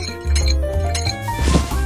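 Dice shaken inside a container for a Hi-Lo dice game make bright, hard clinking rattles in two close, loud bursts with a brief lull between them.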